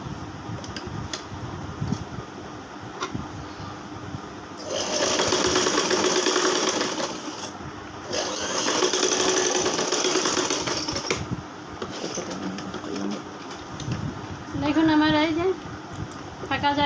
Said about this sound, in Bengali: এখানে যে ফাঁকা জায়গাটা আছে এই জায়গাটা একটু সেলাই দিয়ে দিবি